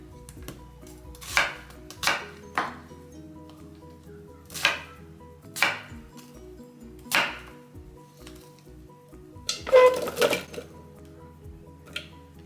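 Half an onion chopped for a Guinean fish ball soup: a few sharp, separate knife thuds on a board, spaced irregularly over a quiet background.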